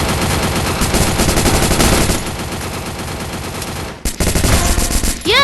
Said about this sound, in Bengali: শত্রু আমাদেরকে মারতেছে।